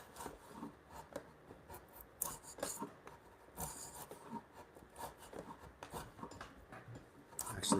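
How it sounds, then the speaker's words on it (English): A mortise chisel pares wood by hand in a home workshop, giving soft scraping and rasping strokes with scattered light taps, close and quiet. "do a couple with the mortise chisel here"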